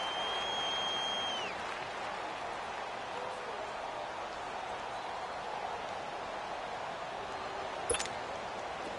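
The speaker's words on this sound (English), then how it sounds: "The crowd getting into it as we come up on a big 3rd down." A stadium crowd in a football video game roars steadily ahead of a big third down, a broad wash of cheering noise that keeps going throughout at moderate loudness.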